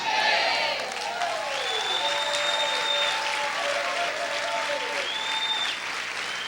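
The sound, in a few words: congregation applause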